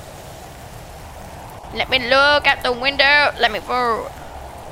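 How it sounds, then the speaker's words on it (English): Acid rain in a video game pours down as a steady, even hiss throughout, with a person talking over it in the second half. "the acid rain is coming through real fast"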